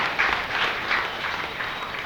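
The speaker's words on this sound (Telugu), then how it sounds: "గట్టిగా చప్పట్లు కొట్టండి ప్రియులారా" An audience claps loudly together, a dense, continuous patter of applause with slight swells in intensity.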